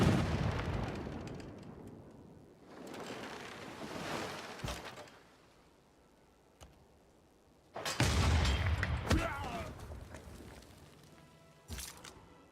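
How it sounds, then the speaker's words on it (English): Naval privateer bombarding a city in the strategy game Civilization VI, several booming cannon blasts and rumbling explosions in bursts with quieter gaps between, loud and close. "he's a little busy right now, just continuing to bomb this one city"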